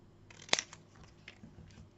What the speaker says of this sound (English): Now take a pair of scissors and chop